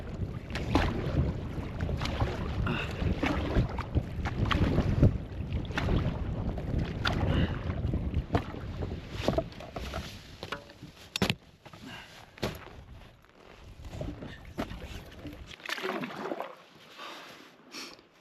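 Wind gusts and rushes steadily past while a solo canoe sails east across open Canadian water, a loud continuous roar with buffeting against the microphone that eases and drops away near the end.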